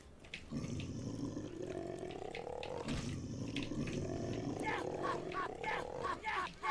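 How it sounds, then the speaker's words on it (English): Several wolves in the game Retro Witch snarl and growl continuously over busy combat noise, with a burst of sharp clicks and hits near the end. "Multiple wolves."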